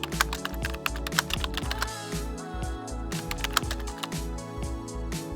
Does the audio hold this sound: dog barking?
no